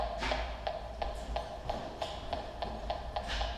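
Faint, regular clicking ticks from a handheld gas leak detector, evenly spaced about three per second over a soft background hiss.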